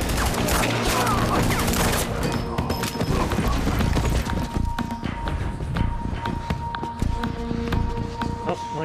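Gunfire in the Quantum Break video game, sustained bursts of rapid shots that thin into scattered single cracks and clattering impacts, loud and close, with talk over it.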